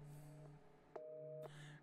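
A telephone tone in the video game Resident Evil 7 plays as steady electronic beeps that start, stop and restart in a short pattern, thin and fairly quiet, with no talking.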